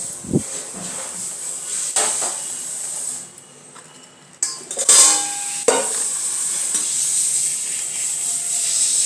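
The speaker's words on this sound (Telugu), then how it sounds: "ఇప్పుడు ముందు మసాలా వేయించుకుందాం" Whole spices (cinnamon, cloves and coriander seeds) crackle and hiss in a pan with occasional stirring scrapes, a steady sizzle running throughout.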